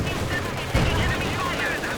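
Dense, continuous gunfire and machine-gun bursts fill a Company of Heroes 2v2 battle with Grenadiers carrying light machine guns, with a loud thump partway through over a steady wash of battle noise.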